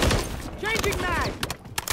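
Rapid gunfire in the Modern Warfare 3 multiplayer map Airborne, loud and close, mixed with shouted voices over a short burst of shots.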